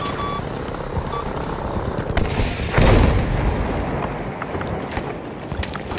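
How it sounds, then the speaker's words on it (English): A JB-2 airstrike in Battlefield V lands as a deep rumbling boom amid a dense, roaring wash of battlefield noise, with one louder blast peaking midway and continuous distant gunfire and rumble around it. "We need a JB-2 airstrike there."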